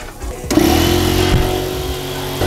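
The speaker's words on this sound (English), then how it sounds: "I got to turn the air compressor on" An air compressor in a car workshop kicks on abruptly and runs with a steady, loud mechanical drone and whine, close by with no talking.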